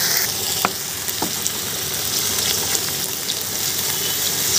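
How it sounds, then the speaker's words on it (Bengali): Eggs fry with onion in a pan for egg bhuna, producing a loud, dense, continuous sizzle with occasional sharper crackles, close by and with no talking over it. "ডিম ভুনা করে নিচ্ছি একদম ডিমটা।"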